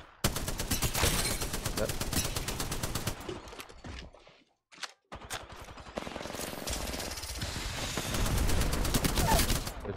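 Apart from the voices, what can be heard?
gunfire in Apex Legends video game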